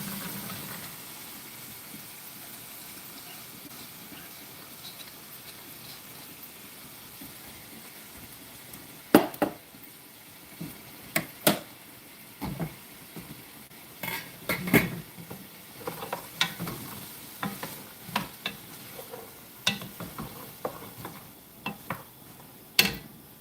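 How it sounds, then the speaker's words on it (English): Tomatoes sautéing in a pan for a lentil and sausage risotto, a soft, steady sizzle with a run of sharp clinks and scrapes of a utensil against the pan in the second half. "Got to saute these a bit."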